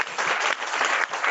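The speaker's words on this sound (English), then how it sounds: "Can we give them a round of applause?" Attendees at a nursing research conference give a round of applause, a lively burst of many hands clapping together, loud and close, swelling in waves without any speech.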